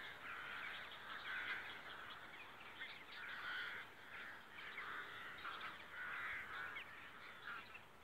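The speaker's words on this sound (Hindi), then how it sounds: "ये कुछ कौवे हैं जो अपनी खुराक अभी ढूंढ रहे हैं।" A group of crows foraging for food near the water's edge gives repeated harsh caws that overlap in uneven bursts, moderately distant and fairly faint over a soft outdoor background, with no speech.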